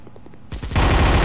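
Rifle fire in the Guns of Boom shooter game: a few quick separate shots, then a loud dense burst of rapid automatic gunfire close up, with no talk.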